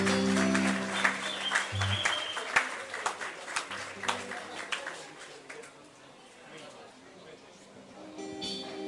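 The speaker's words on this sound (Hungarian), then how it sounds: "Hát egy nagy tapsot kérek a vőlegényüknek!" Guests at a couple's Hungarian wedding reception give the groom scattered applause over background music and chatter. The clapping is strongest early, then thins and fades as voices continue.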